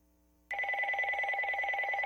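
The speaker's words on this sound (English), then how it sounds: "The phone rings" A telephone bell rings loudly and steadily, beginning abruptly after a brief quiet moment and continuing without pause.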